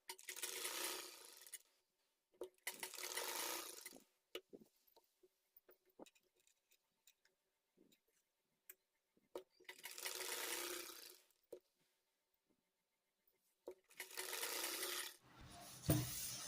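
A sewing machine stitches churidar lining to the main piece in four separate bursts of rapid mechanical whirring. Soft handling clicks and rustles fill the quiet gaps between runs.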